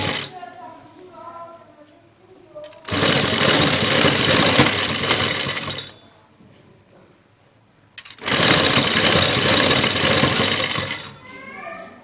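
A sewing machine stitches lace onto a neckline in two loud, close bursts of steady whirring, each lasting a few seconds, with quieter gaps between them where a voice speaks.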